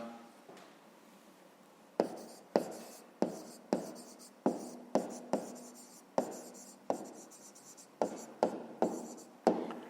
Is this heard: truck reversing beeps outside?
no